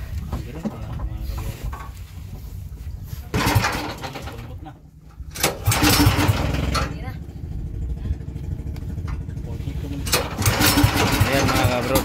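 A 16 or 18 horsepower boat engine runs at a beach, chugging steadily and close by with changing loudness, while someone talks over it throughout.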